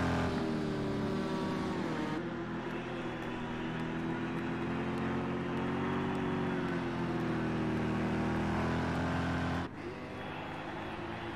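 Sim racing cars lapping Hockenheim in a video game, engines droning steadily and continuously at moderate distance, with a brief dip in the middle and another near the end, no talk over it.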